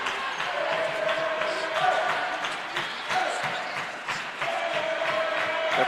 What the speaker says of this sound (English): The crowd on their feet here at the quad. You can hear it from the bottom row to the top.